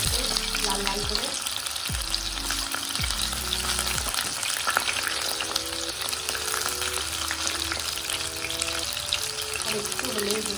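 A continuous close crackle of chicken pieces frying in hot oil for chilli chicken, with a handful of utensil knocks and scrapes early on and a steady hiss carrying through to the end.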